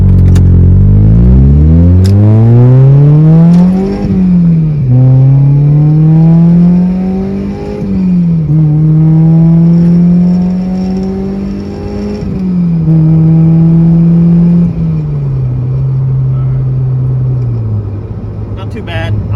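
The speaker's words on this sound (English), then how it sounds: "just roll through the gears a little bit." An NB Mazda Miata with a Megan Racing aftermarket axle-back exhaust accelerates hard through several gears, its loud, close engine note climbing in pitch, dropping at each shift and climbing again, with a raspy exhaust drone throughout.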